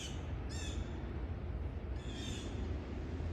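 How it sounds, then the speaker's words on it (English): Wild birds feeding on bread outdoors on a mild day, a red cardinal nearby: two short bright squawking calls ring out over a steady low outdoor rumble, with no talking. "Well, the birds over here, they're eating bread."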